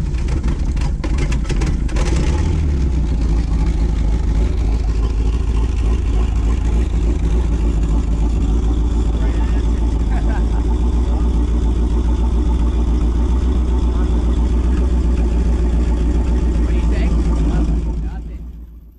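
A loud outboard boat engine on a Skipjack 20 boat, tested for an overheating fault, runs steadily up close, a constant droning rumble that cuts off abruptly near the end.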